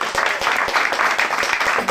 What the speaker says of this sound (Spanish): Voy a aplaudir.